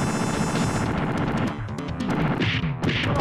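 Rapid bursts of gunfire from a gun in the SNES game Final Fight, a dense clatter of shots mixed with game effects and music, loud and close.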